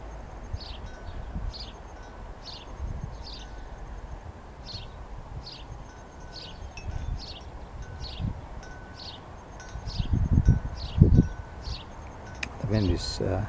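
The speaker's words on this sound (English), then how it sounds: "16 kilometers an hour wind speed." Wind at about 16 km/h blowing through swaying treetops beside a small wind generator: a steady low rush with faint leaf rustle, birds chirping repeatedly in the background, and stronger gusts near the end.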